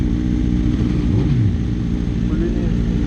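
Superbikes with full-system exhausts, a Yamaha R1 and a BMW S1000RR, rumble loudly and steadily at close range, with a rising rev sweep in the middle, while people talk over the engine noise.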